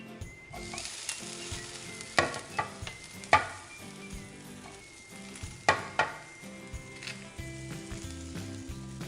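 A coconut mixture is sautéed in a pan for a Goan ross omelette, quiet frying under a spatula that scrapes and clacks against the pan in a few sharp, irregular knocks, with no one speaking.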